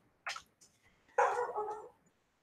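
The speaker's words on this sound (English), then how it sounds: "I probably have a package that's getting delivered right now, so my dog's going to bark" A house dog gives a couple of quick barks indoors, a short sharp yap followed by a longer whining bark, fairly faint, alone without talking.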